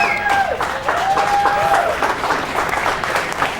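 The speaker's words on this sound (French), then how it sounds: "Il y a des applaudissements aussi à Ottawa." Applause from colleagues in Ottawa as a tribute to journalist Denis Ferland, steady clapping from a crowd throughout, with a faint tonal whine running through it.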